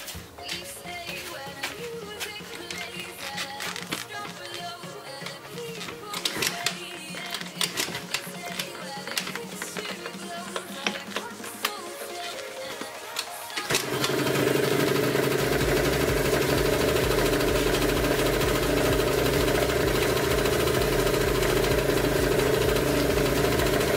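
A scooter engine cranks and catches about halfway through, then settles into a steady, close idle that holds to the end, with light mechanical clicking and handling noise before it starts.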